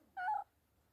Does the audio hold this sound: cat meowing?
yes